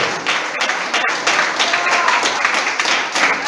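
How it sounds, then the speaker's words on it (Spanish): A church congregation claps together in dense, steady applause that carries on for several seconds, fairly loud and close, with a few voices mixed into the clapping. "Aplauda, aplauda, aplauda."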